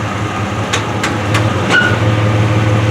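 A 1993 Chevy S10 4x4 Blazer rolls forward under its own power, its engine a steady low drone with a few faint clicks and knocks over the top, close and continuous throughout.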